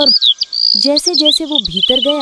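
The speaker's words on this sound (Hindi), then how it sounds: "चिड़ियों की आवाजें गूंज रही थीं" Birds chirp and whistle in a dense forest, bright high calls and trills close by, while someone narrates over them.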